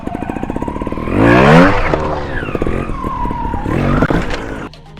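A trial motorcycle engine revs hard in a loud burst while climbing a rock step, climbing in pitch, then keeps roaring and sputtering at close range before easing off.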